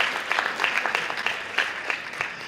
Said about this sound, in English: Let's give them a round of applause for setting this up